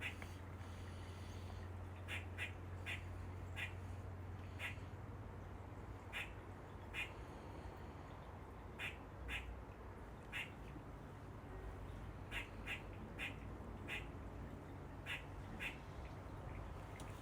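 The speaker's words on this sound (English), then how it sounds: "That noise you can hear is the noise squirrels make when they lose their mind." Squirrels set off by a dog give agitated alarm calls, a series of sharp repeated chatters and barks in irregular bursts over steady outdoor background rumble, moderately distant.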